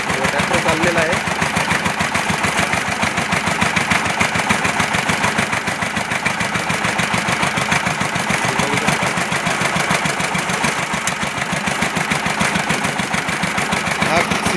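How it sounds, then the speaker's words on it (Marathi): A small farm tractor engine runs steadily, a loud continuous mid-to-low mechanical drone with a constant chugging pulse, close by and unbroken throughout. "ट्रॅक्टर चाललेला आहे."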